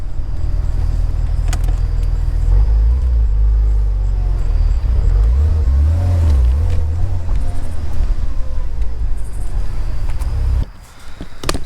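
Porsche Boxster engine, a Copart salvage car just brought back to running, idling loudly and close with steady low rumble and a few swelling revs before cutting off near the end.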